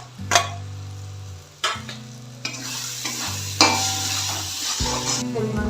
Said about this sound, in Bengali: এই অবস্থাতে আমি এখানে আলুগুলো দিয়ে দিচ্ছি।